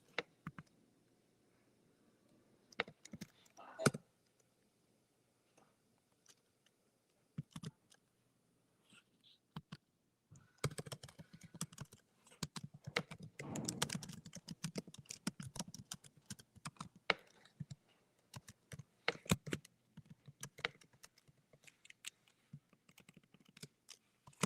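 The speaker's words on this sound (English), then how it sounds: "Just typing real quick." Quick typing on a computer keyboard, soft close-up key clicks in scattered bursts that turn into a dense, steady clatter halfway through, against near-silent background.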